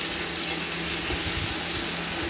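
Chopped onion and whole garlic fry in oil until reddish for a mutton and potato curry, making a loud, dense, unbroken sizzle with faint stirring underneath.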